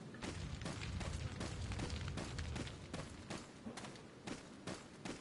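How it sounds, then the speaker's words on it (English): Fireworks going off outdoors: a rapid series of sharp cracks and booms, some clustered into quick volleys, heard faint and at a distance over several seconds with no talking. "there goes the fireworks"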